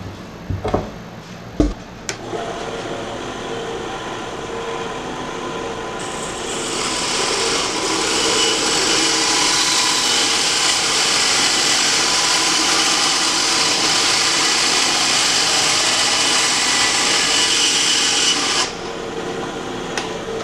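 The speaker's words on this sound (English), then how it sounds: "Right now we'll go to the bandsaw and we'll go ahead and cut this piece out." A bandsaw runs and cuts through a thick plastic pipe fitting for a bottom drain, giving a few sharp knocks at the start and then a loud, steady whining grind that holds before dropping off near the end.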